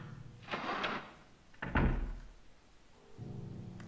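A door opens in the video game Silent Hill with two heavy thunks, the second louder, followed by a low rumbling tail.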